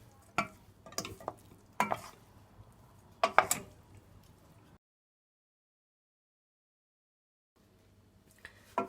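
A spoon stirs a beetroot and vermicelli salad with diced cucumber in a bowl, with bursts of scraping and soft clinks, then a few seconds of silence before stirring starts again.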